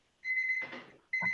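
A kitchen cooking timer beeps in two steady electronic bursts, signalling that food is done, with a short stretch of clattering noise between them.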